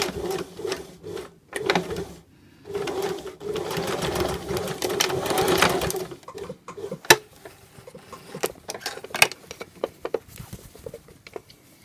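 A sewing machine stitches a waistband in several close, rapid bursts of mechanical whirring, separated by short pauses and softer clicks and handling noises.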